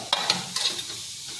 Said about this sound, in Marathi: कांदे आधी भाजून घेणार आहे मी खरपूस गुलाबी होईपर्यंत।